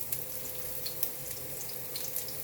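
Ginger frying in a pan for paklay, a steady soft sizzle with faint hissing crackle throughout, close and quiet with no voices.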